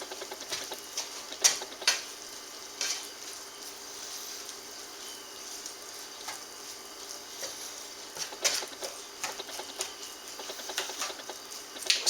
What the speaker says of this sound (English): So, get all that together and mix it in.